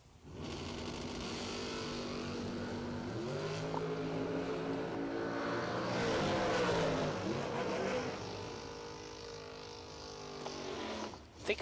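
A Camaro Roadster race car at a drag-racing event drives past with a sustained, loud engine roar, pitch rising and swelling toward the middle before easing off, then a sharp pop at the end.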